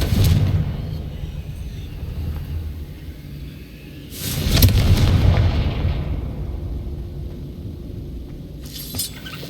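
Confringo fire spell exploding in Hogwarts Legacy, two booming blasts with rumbling tails over a steady low game rumble, the second burst strongest, then a fainter crack near the end.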